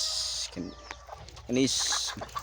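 A bantam chicken clucks in short bursts nearby, with a steady high hiss in the background and a person talking at moments.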